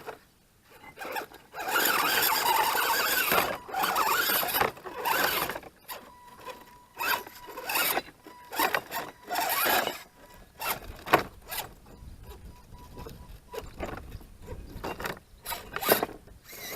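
An HG 6x6 lifted RC crawler runs in bursts, its small motor and gears whirring and ratcheting in short, uneven spurts with pauses between, close and fairly quiet.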